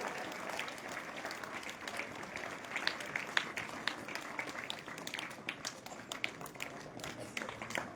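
A school crowd in Taranagar keeps clapping for students, a steady patter of many hands with sharper individual claps standing out, mostly without talk.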